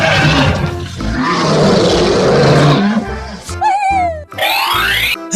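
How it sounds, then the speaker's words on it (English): A lion lets out a broad, noisy roar that rumbles for about three seconds, followed by springy boing-like cartoon effects and sweeping tones, loud and close. "2. Lion."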